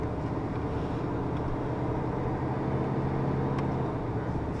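A steady low engine rumble from a 1994 Dodge Dakota pickup with a 5.2 V8, driving after fuel injector replacement, continuous and fairly loud, with a deep droning hum throughout.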